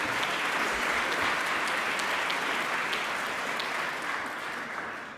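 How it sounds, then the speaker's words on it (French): Sustained, full applause from a large audience at an entrepreneurship gala in Montreal, a dense even wash of clapping that fades slightly near the end. "Vous allez avoir une deuxième bonne raison d'applaudir"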